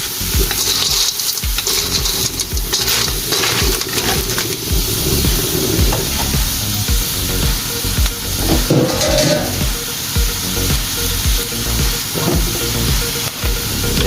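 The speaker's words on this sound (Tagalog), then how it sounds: "So, igisa natin ang mabuti ito" Guisado being sautéed in a pan, made with Sprite soft drink, sizzles loudly and constantly, with the scrape and stir of a utensil and bubbling liquid woven through the steady frying hiss.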